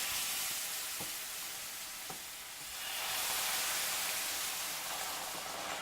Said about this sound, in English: I'm going to put my cream in there, but it's going to probably sizzle a little bit right away